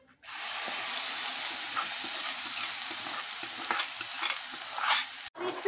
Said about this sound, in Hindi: अब मैं डाल रही हूँ ये टमाटर प्याज का पेस्ट।